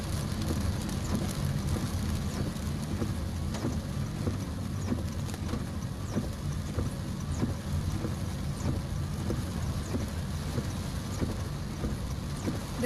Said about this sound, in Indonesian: hujan masih terus mengguyur deras di kawasan Bandar Lampung